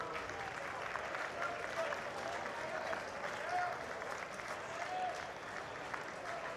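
Oregon State fans at a baseball game cheer and clap, a broad, sustained crowd roar with scattered claps heard from a distance, under a commentator's voice.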